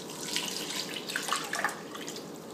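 Water is poured into a pot of cut, salted potatoes in a home kitchen, a steady close splashing stream with small bright bubbling tones and no talking.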